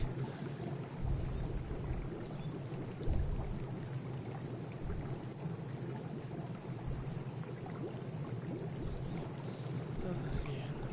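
Steady flowing water streams continuously in an ARK survival game greenhouse build, a soft, even rush with occasional low bumps, quiet and unbroken throughout.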